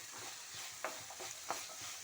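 Mung bean seeds fry in hot oil, a soft steady sizzle broken by a few sharp stirring scrapes and pops.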